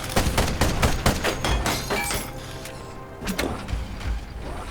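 Cannon and weapon fire in the steampunk mech video game Ironcast, a rapid volley of sharp cracking impacts with shattering, metallic debris, and a short second burst later on.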